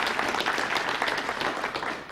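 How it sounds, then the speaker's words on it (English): Full, continuous applause from an audience at a Louisiana event with the governor and the community and technical college system president, a steady wash of many hands clapping without pause. "Let's give them a round of applause for that commitment."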